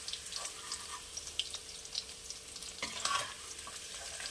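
Paneer frying in oil in a pan, a continuous sizzle broken by scattered scrapes and clinks as the pieces are moved and lifted out, with a louder clatter near the end.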